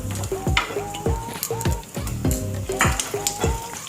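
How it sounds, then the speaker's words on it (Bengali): Cashews and raisins fry in a pan of tempered spices for shahi pulao, giving a steady sizzle broken by repeated spoon-against-pan scrapes and clinks in a regular stirring rhythm, close and fairly loud. "এবার আমি কাজু বাদাম আর কিশমিশটা দিয়ে দিলাম।"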